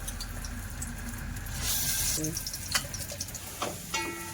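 Ginger-garlic paste frying in hot oil in a home kitchen, a steady soft sizzle with a brief louder hissing surge and a few clinks of utensils, close and moderately quiet.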